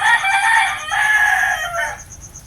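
A rooster crowing loudly and close among backyard chickens in the rain, one long drawn-out call with a brief break that fades out near the end.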